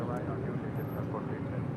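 An Airbus A320 airliner departing from the south side of LAX rumbles as a steady, broad roar throughout, with no breaks.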